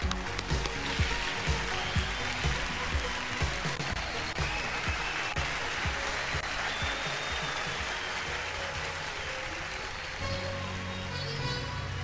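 Audience applause welcoming a singer onstage, a steady dense patter of clapping lasting about twelve seconds with no letup.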